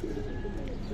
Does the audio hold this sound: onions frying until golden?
no